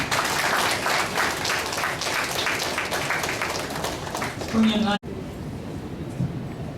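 An audience at a Tamil speech competition claps in a dense burst of applause after a speech, which cuts off abruptly, with voices mixed in.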